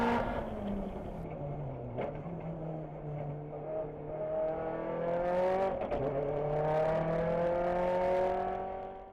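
A car accelerates hard around the M1 Concourse race track, engine note climbing steadily through the gears with a brief dip between shifts, a strong close whine and rising harmonics from inside the cabin.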